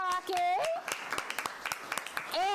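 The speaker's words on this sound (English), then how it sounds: "Big round for field hockey." Round of applause for a school field hockey team at a board meeting, a scattered patch of claps heard between bursts of nearby speech, moderate and brief.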